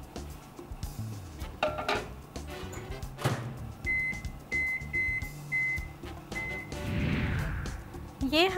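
A microwave oven heating ghee with cumin and cinnamon hums quietly and gives a row of short, evenly spaced beeps, with a voice talking over it and soft kitchen clatter.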